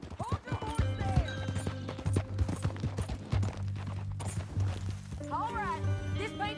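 Horse hooves clip-clop in steady, repeated beats in the game Red Dead Redemption 2, fairly close, under game character dialogue and other scattered sounds.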